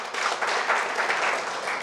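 Audience applause at an Akhil Bharatiya Dhanuk Utthan Mahasangh gathering in Bhagalpur, a steady wash of clapping from a crowd lasting a couple of seconds.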